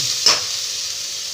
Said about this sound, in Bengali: মিষ্টি আলু গ্রেট করা মিষ্টি আলুটাকে দিয়ে ভেজে নেব